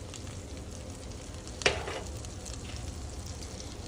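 Butter and flour cook in a pan as the base of a sauce, giving a steady low sizzle with one brief clatter partway through and no talking.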